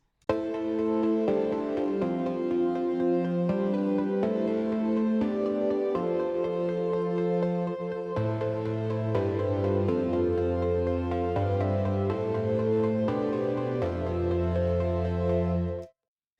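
A richer, flowing chord progression on a keyboard with moving bass notes and layered harmonies, played smoothly for about sixteen seconds without any voices.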